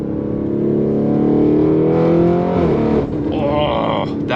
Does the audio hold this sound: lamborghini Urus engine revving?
yes